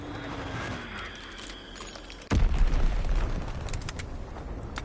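Azon bomb strike in a video game: a sudden deep boom about halfway through, followed by rumbling, crackling aftermath of further blasts over background battle noise.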